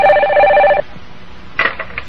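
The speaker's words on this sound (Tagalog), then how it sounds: "Kana, telepono. Mubagting gani na, tubagon mo dayon ha?" A telephone rings with a loud, clear electronic trill that cuts off, followed by a short burst of speech.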